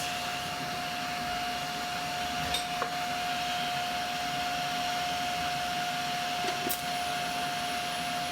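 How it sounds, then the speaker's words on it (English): TIG welding during a car turbo build makes a steady, close hissing buzz with a thin constant whine running underneath, unbroken for the whole stretch apart from a couple of faint clicks, with no speech. "So I'm gonna get back in there and see if I can get a decent weld."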